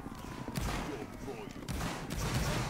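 Musket gunfire in a Napoleonic Wars multiplayer battle game, with repeated dull shots and crackling volleys, steady and moderately loud, mixed with battlefield noise and voices calling out commands.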